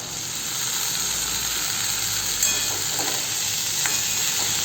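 Small potato pieces and peeled soybeans sizzle in hot spice masala for a Nepali-style vegetable dish, a constant close hiss with occasional light stirring scrapes.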